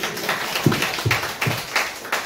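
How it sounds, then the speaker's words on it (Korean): Congregation members clap after a sermon, a sparse, uneven run of claps landing roughly every half second, fairly close and loud, with no talking. "박수 한번 쳐주세요"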